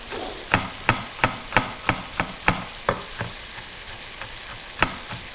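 Beef mince frying in a pan for ragu noodles, a steady sizzle under a rhythmic run of about a dozen sharp scraping or tapping hits, close and moderately loud, with no talk.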